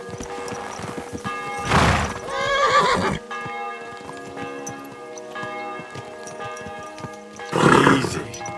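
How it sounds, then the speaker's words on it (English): A horse in Kingdom Come: Deliverance II whinnies loudly twice, once early and again near the end, while steady hoof clip-clops and faint bell-like tones carry on underneath. "This must be the ugliest horse I've seen."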